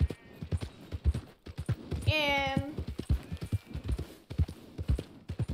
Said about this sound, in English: I am attached to the horses in the game.